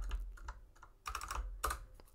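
Computer keyboard typing a terminal command, a short run of close, crisp keystrokes in quick clusters with a brief pause between them.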